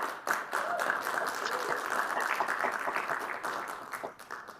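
A room full of people applauds steadily, a dense patter of clapping that holds for several seconds before thinning slightly at the end.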